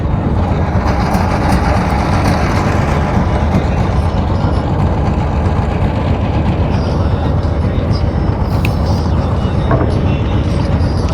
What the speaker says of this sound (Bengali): এটা খেয়াটা ছাড়ছে এখন এখন যাইতেছি